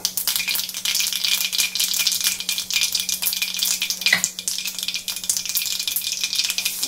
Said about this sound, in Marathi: राई चांगली तडकल्यानंतर त्यात थोडेसे अगदी जिरे घालायचे